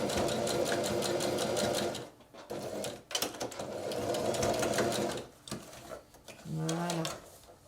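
A domestic sewing machine zigzag-stitches the edge of poplin fabric for a pleated face mask, whirring in fast, steady bursts separated by short pauses and clicks.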